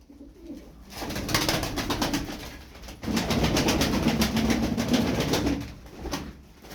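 Ay Parçası tumbler pigeons coo softly in repeated throaty bursts, fairly close, with a faint fluttering in between and no talking.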